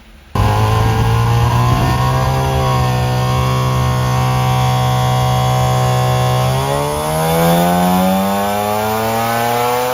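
A tuned Mazda RX8 show car's rotary engine holds a loud, steady high-rpm drone on a dyno during a pump-gas tuning run, then the pitch climbs smoothly as it revs higher, close and continuous throughout.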